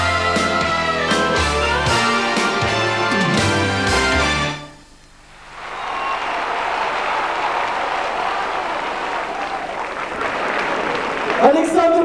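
Concert audience applause rises after a song ends abruptly, a dense, steady wash of clapping that continues loudly for several seconds.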